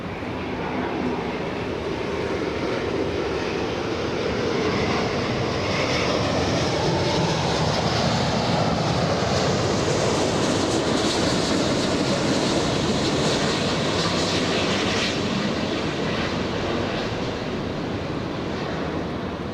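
A Scandinavian airliner inbound from Copenhagen lands at LAX, a broad, steady jet roar that swells slightly and holds loud throughout, with no voices.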